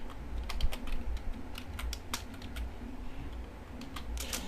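Rapid, irregular clicks from a computer keyboard being typed on while programming, close and fairly quiet over a low background hum, with no speech.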